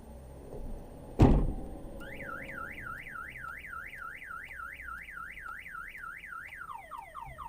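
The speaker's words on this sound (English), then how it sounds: "So Harry was telling me my alarm on the chase is going off" A Lotus car alarm goes off after a sharp thud, its loud warbling siren cycling rapidly and steadily, then shifting to a different chirping pattern near the end.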